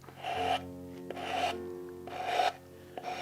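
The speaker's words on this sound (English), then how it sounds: "Now sometimes those paper edges will be a little on the rough side. There again, your sanding block is handy for this." Sanding block rasps against the rough edges of watercolor paper in three long, even strokes, close and fairly quiet, with brief pauses between passes.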